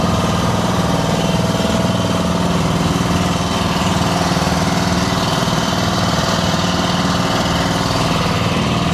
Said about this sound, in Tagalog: saba kayong makina sa pambot